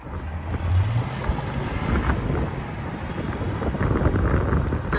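A 1960 Cadillac Eldorado's 390 V8 idles with its exhaust valves closed, a low, steady, muffled rumble close by, with some wind noise over the microphone.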